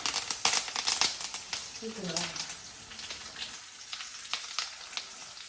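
Curry leaves drop into a pan of frying tomato kurma with a crackling sizzle, crisp popping bursts standing out near the start, and a voice talks over the cooking.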